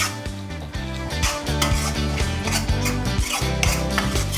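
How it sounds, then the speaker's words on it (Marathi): A spoon scrapes and clinks in a pan as turmeric, garam masala and salt are mixed into green chicken, with rhythmic metallic stirring over a faint sizzle and background music. "आता हे छान मिक्स करून घ्यायचं आहे आपल्याला"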